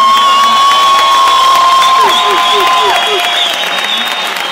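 Crowd at a hip hop event cheering and applauding, loud whoops and shouts with sliding high-pitched yells over continuous clapping, staying intense throughout.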